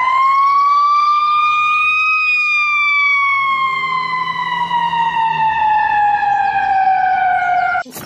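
A toy ambulance siren wails loudly and steadily, rising in pitch and then slowly falling before it cuts off abruptly.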